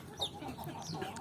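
Indonesian native free-range chickens (ayam kampung) cluck briefly, with a sharp high call near the start over a low, busy farmyard background.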